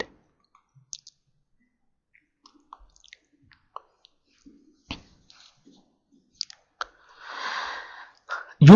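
Sparse, sharp mouse clicks, a few isolated taps spread over several quiet seconds, as a site is created from a business object site template in the IOMS web portal; no talking.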